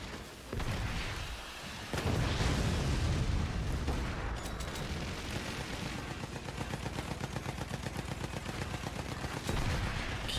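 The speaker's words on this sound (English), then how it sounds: "Rockets out and machine guns out." Machine guns and rockets fire in a mech combat video game: a loud burst of blasts and booms, then a long, rapid rattle of machine-gun fire that keeps repeating, with no talking.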